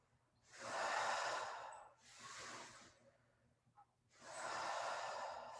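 Deep, slow breaths taken during a pilates exercise: three long, airy inhales and exhales, close and fairly soft, with quiet pauses between them and no talking.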